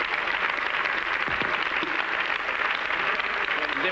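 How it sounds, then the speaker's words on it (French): Audience applause for a sponsor on a French Christmas TV variety show studio, a steady dense wash of clapping holding at even loudness throughout with no gaps. "On peut applaudir notre partenaire."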